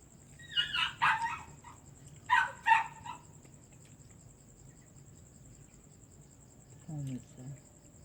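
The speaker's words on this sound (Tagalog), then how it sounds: "Maingay na yung aso ko." A dog barks in two short pairs, moderately near, over a constant high insect chirring; a low voice murmurs briefly near the end.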